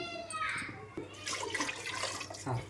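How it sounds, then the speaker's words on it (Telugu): Water pours steadily into a cooking pot of fried spices, oil and salt, ready to boil rice. The rush is soft and continuous, with faint voices in the background. "ఇప్పుడు మరగడానికి వాటర్ యాడ్ చేస్తున్నాం."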